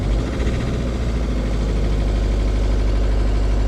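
A Ford Focus TDCi diesel engine idles with a misfire, a steady, loud, close drone with an uneven rumbling beat throughout, no voices.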